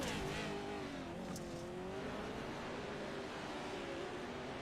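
Several race cars in the iRacing sim sweep past a big jump and into an S-turn at Bark River, giving a continuous dense engine drone that holds steady and loud from start to finish, with no commentary over it.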